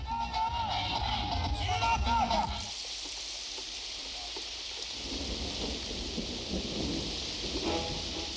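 Heavy, relentless rain pours down in a constant dense hiss, with a deeper rumble and spatter at the start and a voice briefly heard over it.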